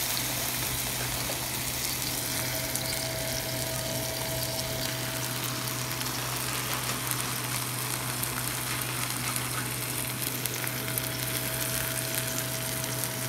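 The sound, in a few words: cheese and meat frying in olive oil in saucepan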